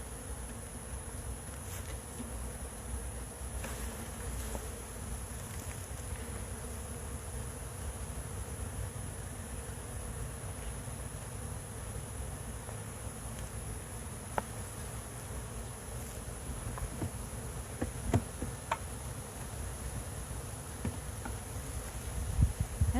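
Honey bees swarm around an open hive being smoked, a dense, steady insect hum filling the whole stretch at close range, with a few faint clicks and taps near the end.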